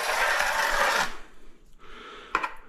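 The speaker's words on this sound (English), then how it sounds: "Always scrape your edge." Tile edges being scraped with a hand tool: a sustained gritty rasping stroke for about a second, then quieter, shorter scrapes and a sharp scratch near the end, close and clear with no talking.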